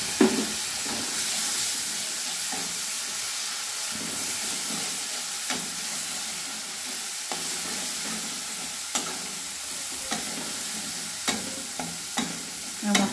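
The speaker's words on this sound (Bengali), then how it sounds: "এবার গুঁড়ো মশলাটা যেটা বানিয়েছিলাম ঈষদুষ্ণ জলে, সেটা আমি দিয়ে একটু কষে নেব" Ground spice paste sizzles in a pan while cooking for egg curry, a continuous bright hiss of frying broken by occasional clinks and scrapes of stirring.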